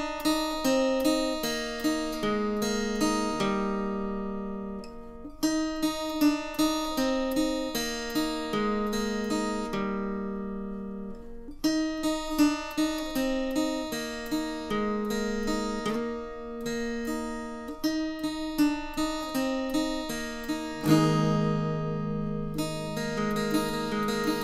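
Lead guitar line for the chorus of a song: a bright, clean melodic phrase of plucked notes repeats in cycles with ringing sustain, ending on a fuller strummed section, played alone and close.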